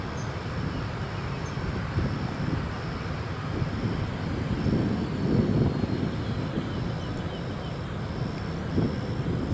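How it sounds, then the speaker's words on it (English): A Dallas-bound airliner taxis at Austin-Bergstrom International Airport, its engines giving a steady low, broad rumble that swells slightly midway, with faint wind noise and no voices. "And now finally this Dallas-bound aircraft is on the move."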